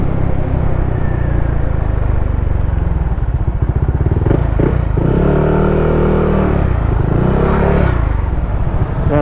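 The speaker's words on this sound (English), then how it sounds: "Narinig niyo yun? Turbo yun." A 2018 Yamaha NMAX ABS scooter revs close by in a loud, buzzing engine drone, with two sharp rising-and-falling throttle blips near the end that carry a whooshing, turbo-like hiss.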